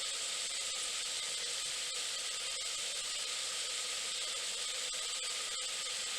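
Onions sauté in an Instant Pot with a steady, even sizzling hiss that keeps going throughout, close by, with faint clicks here and there and no talking.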